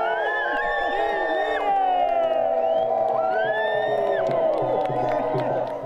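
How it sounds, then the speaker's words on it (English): A large crowd at a Smelt Queen parade event cheers loudly and steadily, with many overlapping shouts, whoops and high voices, some scattered clapping, and no pause for the full few seconds. "lift up your voices and raise a great cheer for the magnificent Smelt Queen"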